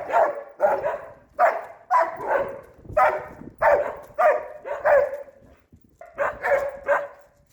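A dog barks repeatedly in short, sharp bursts, about a dozen barks in quick succession, close and fairly loud with no talking.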